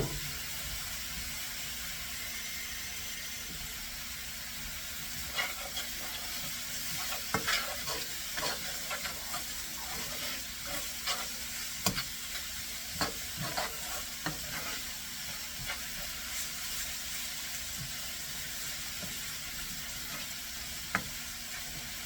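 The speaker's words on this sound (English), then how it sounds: "Now they want us to stir this, and you notice that it's picking up the bits at the bottom of the pan." Rabbit sugo being stirred in a pan, with steady low sizzling and repeated sharp scrapes as the spoon loosens browned bits from the pan bottom, close and with no talk.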